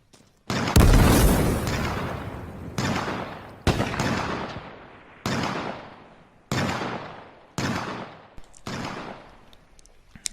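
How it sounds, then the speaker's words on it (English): Repeated loud blasts from a bottle bomb in the video game H1Z1, about seven booming explosions each fading into a short rumbling tail, spaced roughly a second apart, with no talking. "First up, the bottle bomb."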